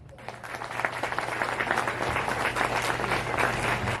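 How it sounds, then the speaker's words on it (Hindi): Audience applauding at an award ceremony at a university, where assistive devices are handed out to people with disabilities: dense, steady clapping from many hands, a little distant, with a low hum underneath and no talking. "आप लोग प्लीज तालियां बजाते रहिए"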